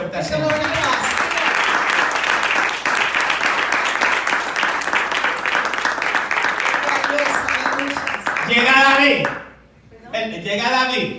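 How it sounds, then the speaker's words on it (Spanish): A church congregation claps loudly and steadily for several seconds, fading out before voices rise near the end. "Dar un aplauso fuerte al Give the Lord Señor. applause."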